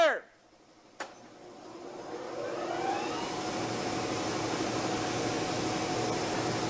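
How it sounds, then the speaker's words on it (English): Bench grinder switched on after a click, its motor whine rising steadily and then holding at working speed as a continuous loud hum, with a brief voice at the very start. "the grinder has to come up to the RPMs that it needs to do its work"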